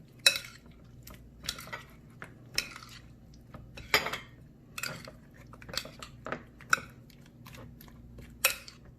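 Sliced cottage cheese is mixed in a bowl, with irregular spoon-on-bowl clinks and scrapes over quiet background. The sounds are close and sparse, spread across the whole stretch.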